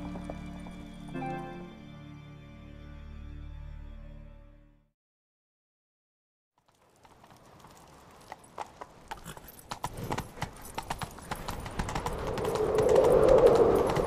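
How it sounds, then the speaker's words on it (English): After music fades and a short silence, hooves pound in a fast, rhythmic gallop that grows louder and busier, a horse running hard in The Witcher 3: Wild Hunt. "Grab a horse, we'll chase him down."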